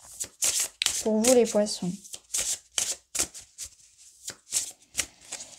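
Tarot cards being shuffled by hand: repeated crisp riffling and brushing bursts run through the whole stretch, close and fairly loud, with a voice speaking briefly over them partway through.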